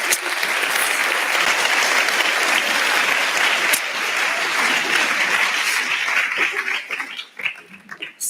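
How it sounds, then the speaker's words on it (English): Conference audience at a SensUs 2018 event applauding, a dense sustained burst of many hands clapping that holds steady before thinning and tapering off at the end. "I just really want you to give yourselves a round of applause for all the good work you've done"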